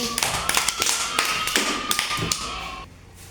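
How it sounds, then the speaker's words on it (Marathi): Several sharp claps ring out in an uneven, scattered rhythm from a few children nearby at a preschool, with no talking. "आता टाळ्या वाजव सगळ्यांनी."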